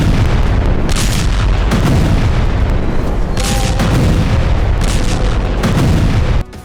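Heavy explosions and artillery booms along the Lebanon border roll in repeated deep, rumbling bursts, loud and sustained, with no voices over them.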